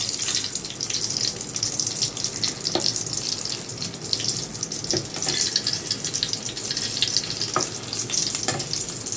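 Sago papad frying in hot oil, a steady, close, continuous sizzle with bubbling crackle throughout and occasional soft stirring clicks, no talking.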